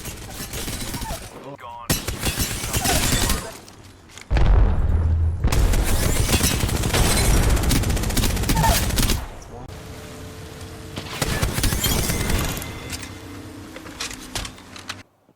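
The Devotion machine gun fires in Apex Legends in long, loud, sustained bursts of rapid automatic gunfire, separated by a few short breaks.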